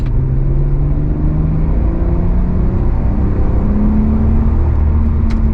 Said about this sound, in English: Now, I've just literally pulled away there, and instantly the response feels like it's back.